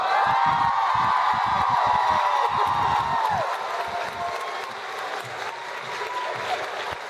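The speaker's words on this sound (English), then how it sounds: "Give little Jensen a round of applause" A convention crowd at a Las Vegas fan panel applauds and cheers, with dense clapping, whoops and high shouts that ring out at first, then ease to softer, scattered clapping.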